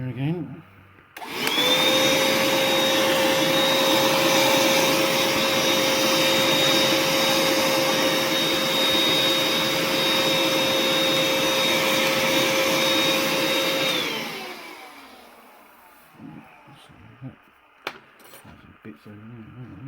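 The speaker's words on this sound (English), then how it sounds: "Vacuum cleaner again." A vacuum cleaner switches on and runs loud and steady for about thirteen seconds while cleaning a Bassett-Lowke steampunk model locomotive, then winds down into quiet handling noises.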